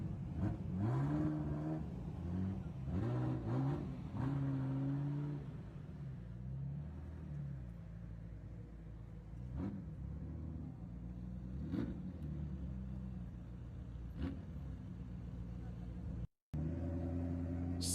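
A Ferrari F40 drives past during Japanese Grand Prix practice, its engine rising and falling in pitch as it revs, heard as a steady, moderately loud mechanical drone with people talking over it.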